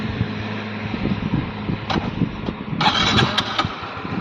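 A scooter's engine is started: a rough, rattling idle with uneven low thumps, then a sharp rev that builds louder near the end, close by and without talk.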